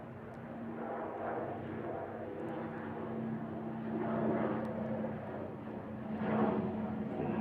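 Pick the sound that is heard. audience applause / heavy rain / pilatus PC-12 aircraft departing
pilatus PC-12 aircraft departing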